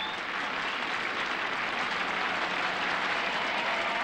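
Sustained applause from a large television studio crowd at a Russian Idol show, steady and dense throughout with no break, loud and continuous.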